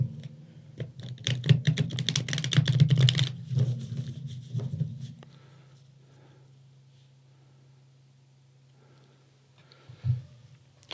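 Tarot cards being shuffled by hand, a quick run of dense papery riffling and clicking that lasts several seconds, then trails off into quiet with one last brief shuffle near the end.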